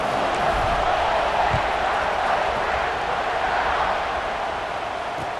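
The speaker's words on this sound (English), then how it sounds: "this crowd is buzzing after that last score" A football stadium crowd keeps up a dense, loud roar after a touchdown in a Michigan State vs Ohio State game, a steady wash of massed voices with no clear pauses.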